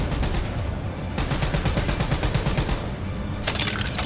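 Rapid automatic gunfire from the Call of Duty Black Ops 3 campaign, loud and continuous bursts with sharp cracks, pausing briefly before another intense volley.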